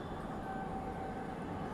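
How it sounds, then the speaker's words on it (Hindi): A metro train arrives at a station with a steady low rumble and rolling hum, plus a faint high whine from the cars, sustained and moderately loud throughout. "ये देखो ना, आ गई वो मेट्रो"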